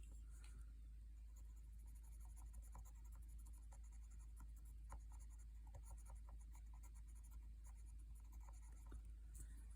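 Colored pencil strokes scratch steadily across a card as purple is laid down, a close, soft, continuous scribbling with small rhythmic ticks and no talking.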